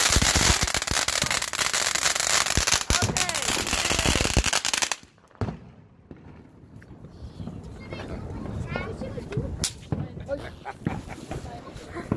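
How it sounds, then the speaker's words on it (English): Fourth of July fireworks and firecrackers crackle in dense rapid bursts, loud and close, then stop abruptly, leaving scattered distant pops and bangs over background noise. "today we're lighting some fireworks."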